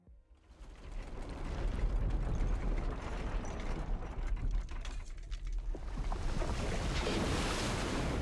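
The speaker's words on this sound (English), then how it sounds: "Is that the ocean?" Ocean waves rush and roar in a sustained, loud wash of surf with churning, grinding texture, set in the fantasy game Tavern Talk during a flood; no talk.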